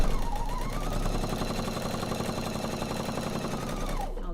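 A sewing machine stitches quilt fabric in a steady, rapid mechanical whirr with a fast rhythmic needle clatter. It runs close and continuously, then stops near the end.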